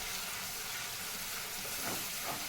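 Steady hiss and sizzle of onions and tomatoes frying in oil inside a clay pot, an even, close, moderately loud crackle with no voices.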